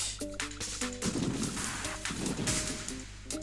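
Stonehenge stones toppling like dominoes in the Goat Simulator video game, a rapid series of heavy crashing impacts and rumbling thuds, loud and continuous, with short tonal game sounds between them.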